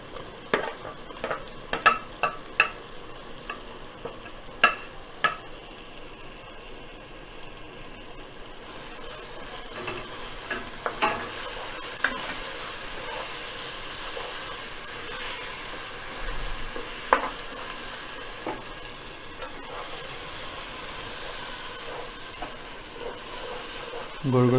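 Beef pieces fry in a hot pan for a spicy pasta dish and are stirred steadily. The close sizzle carries sharp scraping clicks from the stirring.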